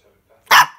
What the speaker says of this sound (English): What are you barking at, little girl?